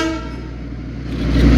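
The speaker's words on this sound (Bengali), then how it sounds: "না না, ট্রেনই।" A small railway engine hauling a single car, sounding its horn as it passes nearby at a market: a loud, sustained horn blast over rumbling rail noise that grows stronger toward the end.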